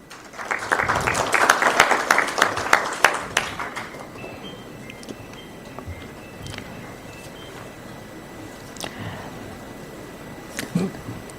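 An audience claps at the 30th CII Partnership Summit roadshow in Mumbai. The dense, close applause lasts about four seconds, then drops to scattered faint claps and a quiet room.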